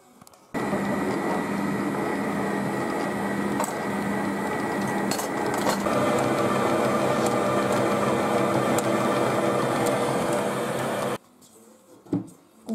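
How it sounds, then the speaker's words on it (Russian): A bread machine kneads dough, giving a loud steady mechanical churning and rumble with occasional knocks that runs for about eleven seconds, then stops abruptly and leaves a quiet room with a few small sounds. "Так, теперь поставлю месить тесто."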